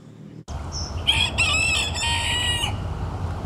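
A single rooster crows loudly nearby in Arroyo Grande, California, one drawn-out call lasting about two seconds over a steady low background hum.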